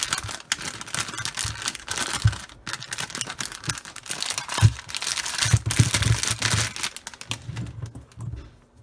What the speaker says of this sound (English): Let's take off the packaging